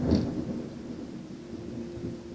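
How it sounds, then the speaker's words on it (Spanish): Rain patters steadily over a low rumble of thunder in the video game Assassin's Creed Black Flag, with a brief brighter crackle at the start; no voices. "Y la lluvia apareció."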